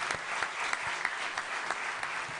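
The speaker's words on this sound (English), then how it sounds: "Let's give all the presenters another round of applause." A conference plenary audience applauds steadily and closely for the whole stretch, a dense wash of many clapping hands with no voices over it.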